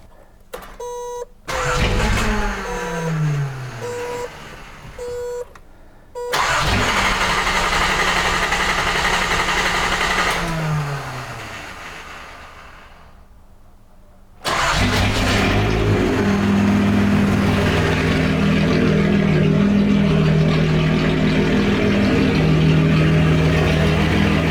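A Datsun 280Z engine cranks and fires with warning chimes beeping, stumbles and cuts out, then catches again and settles into a loud, steady, rumbling idle close by.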